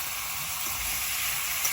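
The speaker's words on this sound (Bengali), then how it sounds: "এবার চিকেনটা দিয়ে দেবো।" Chicken with spices, chilli powder and bay leaves frying in a pan with taro, a loud, dense, continuous sizzle that holds steady throughout, close up with no speech.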